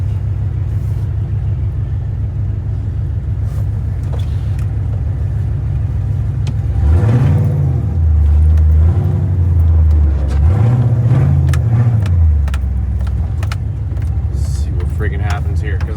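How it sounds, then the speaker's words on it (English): An old square-body pickup truck idles steadily in snowy weather, a low continuous engine rumble throughout with a brief swell mid-clip, while someone talks over it. "I leave my truck running because it's a fucking dump"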